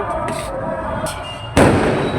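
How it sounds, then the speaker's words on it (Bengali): Fireworks bursting outside during a New Year celebration, a few distant pops followed by one loud close blast that rings on. "আতশবাজি ফাটাতে ফাটাতে সেলিব্রেশন করছে"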